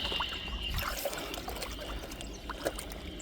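Irrigation water runs along an earthen channel in a farm field, a steady broadband rush and trickle with a few small splashes throughout, moderately near and fairly quiet, no talk.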